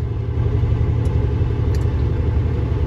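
A semi truck's diesel engine cruising at about 1350 rpm and 66 mph, a steady, loud, deep rumbling drone heard from inside the cab, unbroken and without talk.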